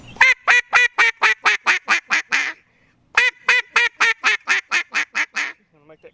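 Two runs of loud, evenly spaced greeting quacks blown on a Mondo duck call, about ten sharp notes in the first string, a short pause, then nine more tapering off, close and alone.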